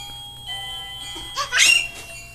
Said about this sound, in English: It's those off-key chimes that he loves.